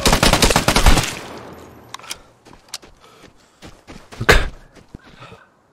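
A PKM machine gun in the shooter game Vigor rattles off a loud, rapid burst up front, followed by scattered sharp single reports and thuds, with another loud crack near the end.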